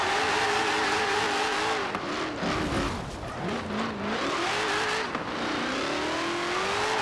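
A stock 2018 Dodge Challenger SRT drifts in Forza Horizon 4, its engine roaring loudly and continuously with rising and falling revs and tire squeal throughout.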